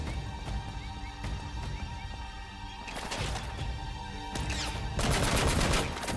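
Gunfire in the action game Uncharted: Drake's Fortune: a series of sharp shots and bursts crack in quick succession, growing denser and louder toward the end, with clattering impacts between.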